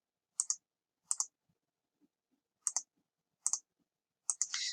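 Computer mouse clicks selecting photos, five crisp double-ticked clicks spaced about a second apart in an otherwise quiet room, close and distinct.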